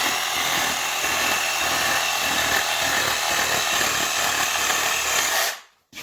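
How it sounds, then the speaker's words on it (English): A sawzall reciprocating saw cuts through a pig carcass during home butchering, a loud, steady buzzing rasp with a fast low chatter that runs for about five and a half seconds before cutting off abruptly. "and then you take your sawzall."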